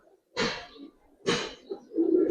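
Pakistani high flyer pigeons, a silver Giribaz-coloured pair, give three low throaty coos in steady succession, close and fairly loud with no talk over them.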